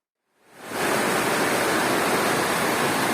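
Rainwater funnels off a roof coated with white acrylic paint, rising quickly from silence into a loud, steady rushing pour that continues unbroken.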